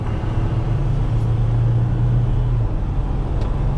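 Jeep TJ on its way to get new tires, heard from inside as a steady loud engine drone and road rumble while it drives off, with no talk.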